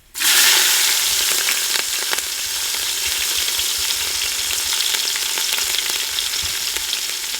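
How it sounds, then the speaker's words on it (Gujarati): Asafoetida and green chili pieces hit hot oil in a pan with a loud, close, steady sizzle that bursts up at once and keeps crackling evenly throughout, no talking. "હિંગ નાખી દઈ અને લીલા મરચાના કટકા."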